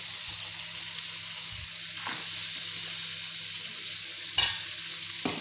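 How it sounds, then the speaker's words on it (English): Steady sizzling of onions sautéing in hot oil, with occasional stirring scrapes, continuous and close, no voices. "I'll saute the onions for 2 minutes"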